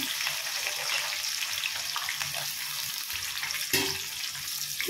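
Sliced onions and green chilies sizzle in hot oil for a chicken fry, a steady soft hiss with occasional light stirring clinks, no voices.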